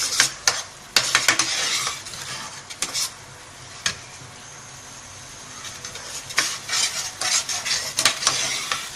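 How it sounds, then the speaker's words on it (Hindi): Tomato masala with turmeric and salt sizzles and fries in a pan while a utensil stirs and scrapes, with intermittent clinks over a steady crackling hiss, close and continuous, no talking. "अब इसको हम फ्राई करेंगे अच्छी तरह।"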